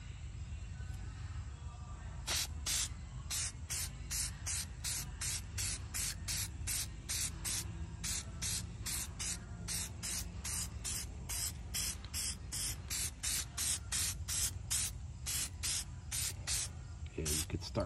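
Short, sharp hissing bursts of Hyperdip spray paint from an aerosol can hit Honda Rubicon wheels in quick repeated pulses, close up over a low background rumble.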